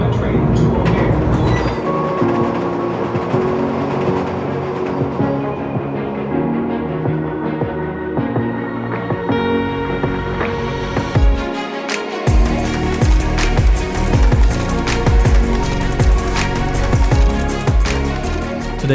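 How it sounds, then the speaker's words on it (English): A Chicago Transit Authority Blue Line subway train bound for O'Hare rolls along with a steady rumble, clattering wheels and rail noise, loud and close inside the car, with brief door and announcement sounds and occasional voices over it. "This is a Blue Line train to O'Hare."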